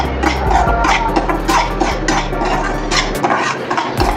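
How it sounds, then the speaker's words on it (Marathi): Semolina roasted in a pan and stirred steadily over low heat: rapid, rhythmic scraping and clinking of a spoon against metal, close and fairly loud. "रवा एकसारखा हलवत राहायचा नाही तर पटकन करपून जातो"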